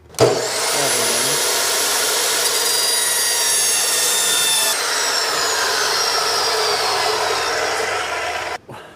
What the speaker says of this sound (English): let's start cutting tube